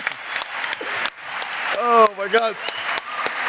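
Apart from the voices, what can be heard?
round of applause from studio audience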